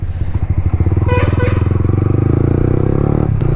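Motorcycle fitted with a full-system exhaust, loud and close, with a pulsing engine note that dips and rises through a downshift, then settles into a steady throb.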